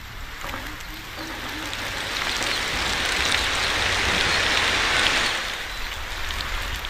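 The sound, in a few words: heavy rain falling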